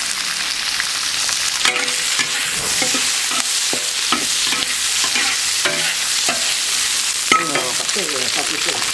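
Oil stir-frying in a wok over a home stove with flames licking up both sides, a steady loud sizzle broken by repeated scraping and clattering strokes of the spatula, with no voices.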